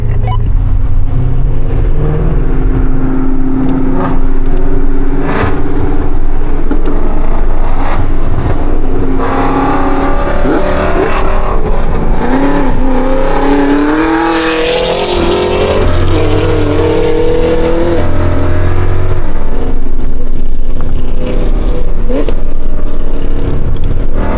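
Two cars, a catless Mustang 5.0 and a Camaro ZL1, accelerate hard and roar past at close range, engines rising and falling in loud, continuous revving bursts.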